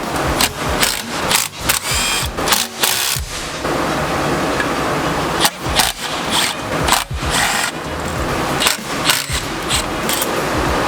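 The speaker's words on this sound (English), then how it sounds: "We're going to be removing 1, 2, 3, 4, 5, and 6 bolts with the 12 millimeter." Ratcheting and clicking of a 12 mm socket backing six bolts off a 2017 Subaru WRX STI, close and loud in bursts with short pauses, a steady background hum running throughout.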